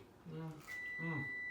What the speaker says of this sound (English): Is your other pizza beeping at us?